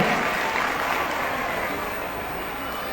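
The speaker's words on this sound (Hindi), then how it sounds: "जोरदार तालियों के बीच" A large crowd at a political rally in Himachal Pradesh applauds loudly and steadily, a dense wash of clapping that holds for a few seconds without pause.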